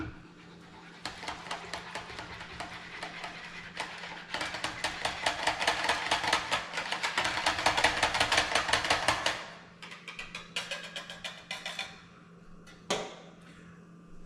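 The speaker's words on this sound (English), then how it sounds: "Now I'm gonna give this a whisk" Sourdough focaccia dough mixture whisked in a bowl, a brisk run of rapid rhythmic clicks and scrapes that builds louder for several seconds, pauses, then resumes in shorter bursts with a low steady hum underneath.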